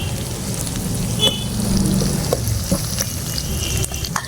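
Ginger sautéing in hot oil for an odong dish, a loud continuous sizzle up close with occasional clinks and scrapes of stirring.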